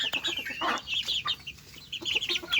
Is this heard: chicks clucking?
yes